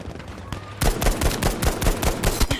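Gunfire in the video game Battlefield V, with an M1 Garand in play, bursts in after a quiet moment as dense, rapid, loud shots and impacts that keep going to the end.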